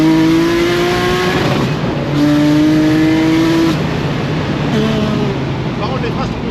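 A tuned 1000-horsepower BMW 1 Series engine roars loudly up close, its pitch climbing steadily as it accelerates, dropping at each gear change, then climbing again.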